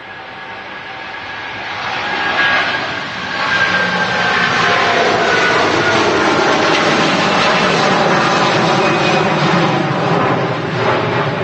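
A Boeing Dreamliner airliner flies overhead with a loud, sustained broadband jet roar that swells and holds steady, and no voices are heard.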